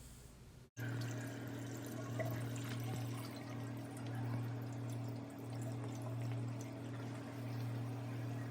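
Dirty water from a portable washing machine drains steadily into a sink after a brief pause, with a constant gushing flow and a low pump-like hum underneath.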